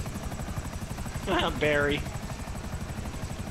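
Video game helicopter with steady rotor thumping that fills the whole stretch, a short burst of talk rising over it midway.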